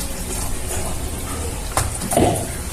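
Water poured into a bowl of freshly ground peanut chutney, a steady wet rush with a brief louder splash near the end.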